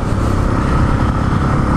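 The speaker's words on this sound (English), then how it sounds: "The camera picks up like quite a bit of piston slap sound." A motorcycle engine on a motovlog ride runs loud and close with a busy, clattery mechanical rattle of piston slap over the exhaust note, heard with stock exhaust and sustained throughout with no speech.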